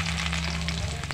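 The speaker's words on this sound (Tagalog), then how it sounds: "mainit na siya, ilalagay natin ang ating ahos" Garlic sizzling and frying in hot oil in a pan, a dense, continuous close crackle without any talking.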